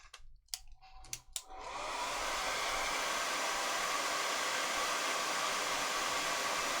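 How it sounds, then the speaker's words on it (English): Hair dryer blowing on wet paint on a miniature, switching on after a few light clicks and knocks, then a loud, steady, close whooshing roar that continues without a break. "blow dry that so it doesn't get too wet with the next layer."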